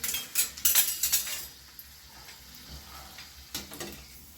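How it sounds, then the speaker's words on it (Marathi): A test piece drops into hot frying oil with a few quick sizzling crackles and light utensil clinks, then a soft hiss settles, quiet and close, no talking. "असं एक टाकून घ्यायचं, बघायचं आपलं तेल गरम झालंय की नाही"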